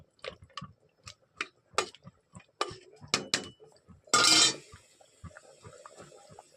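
A spoon scraping and clinking against a pot while stirring chicken curry with garam masala, a series of sharp metallic taps in an irregular rhythm, close up, with a brief burst of sizzling partway through.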